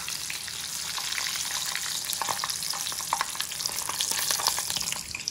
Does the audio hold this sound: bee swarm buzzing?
no